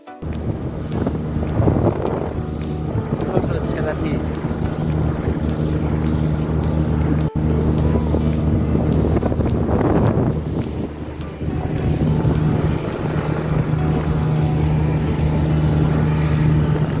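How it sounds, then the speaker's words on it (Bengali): A speedboat races fast across the sea off Saint Martin's Island toward Chhera Dwip, its engine roar continuous and loud, heavily buffeted by wind noise on the microphone and water rushing past. "অনেক গতি নিয়ে কিন্তু স্পিড বোট চলতেছে।"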